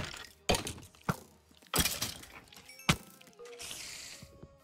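Stone blocks broken in Minecraft, several sharp cracking hits spaced irregularly at moderate loudness, followed by a short crumbling rattle, with no talk.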